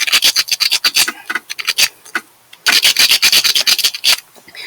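One rock rubbed hard against another in quick rhythmic scraping strokes, a close gritty rasping in two bursts separated by a short pause.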